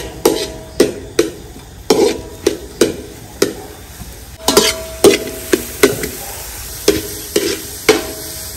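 Red chili tempering sizzling and being stirred for a country chicken gravy cooked over a wood-fired stove, with a steady run of sharp, close clatters and scrapes roughly every half second over a faint sizzle.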